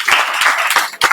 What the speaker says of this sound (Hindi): ताली बजाइए आप लोग जोर से